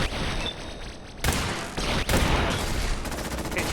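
Turret bot in Fallout 4 opening fire, bursts of rapid automatic gunfire with sharp onsets, loud and close, several volleys separated by brief gaps.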